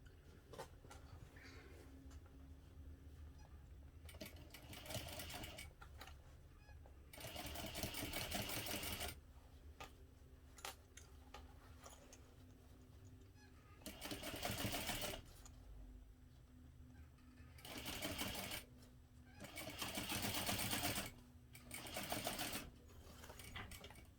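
A sewing machine at a longer stitch length sews a backpack seam with the lining side panel, running in about six whirring bursts of rapid stitching separated by short quiet pauses.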